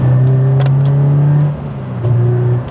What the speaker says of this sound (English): when you wind it right out and you get it really singing, that's when the engine starts to come alive, and it does make a good noise